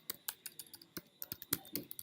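Fingers typing on a computer keyboard, a quick irregular run of close, light key clicks over about two seconds, alone and fairly faint.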